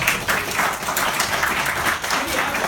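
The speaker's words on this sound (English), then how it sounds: "Let's give them a round of applause." An audience gives a round of applause for performers at a pantomime and improv performance; continuous, fairly loud crowd clapping fills the whole stretch with a bright, even texture.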